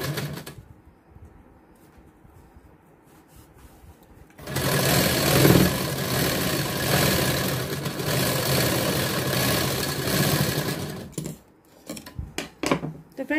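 A sewing machine stitching a katori blouse runs in one continuous fast whirring burst of about six seconds after a quiet start, then stops, followed by a few light handling clicks.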